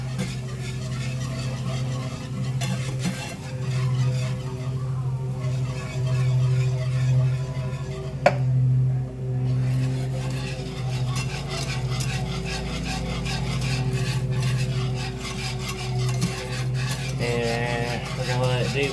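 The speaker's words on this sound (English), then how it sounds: "we're going to whisk all the lumps out" Whisk scraping and stirring through an evaporated milk and flour mixture for mac and cheese, a steady soft rubbing rhythm in a pan, with occasional voice in the background.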